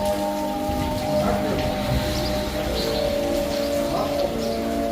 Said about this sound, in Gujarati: ચોમાસાનું વાતાવરણ છે વરસાદનું સાઉન્ડ બહુ જબરજસ્ત છે